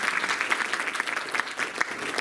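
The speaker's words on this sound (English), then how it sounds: "Let's give them another round of applause, please." Audience applause at a Mahila Day gathering honouring a group of ladies from a science center, a steady, dense round of clapping from a sizable crowd lasting the whole moment with no talk over it.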